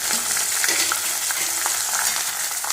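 Ginger, green chili and curry leaves frying in a pan for a gooseberry pickle, giving a steady close crackling sizzle with light stirring scrapes throughout.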